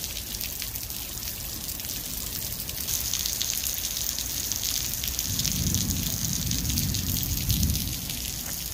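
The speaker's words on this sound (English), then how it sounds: "Waterfall." Steady rushing water roars continuously, a broad wash of noise that deepens and swells partway through, with no voices.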